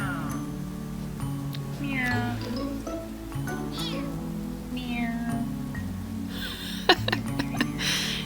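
A feral cat meows repeatedly, loud and close, a series of drawn-out cries spaced across the stretch with some rustling and a few sharp clicks near the end.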